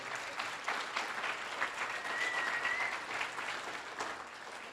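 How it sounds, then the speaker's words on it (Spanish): Audience applause at a church gathering, a steady wash of many hands clapping at moderate level, with a faint whistle or tone briefly rising through the middle and the clapping continuing evenly to the end. "Ese aplauso es para Dios."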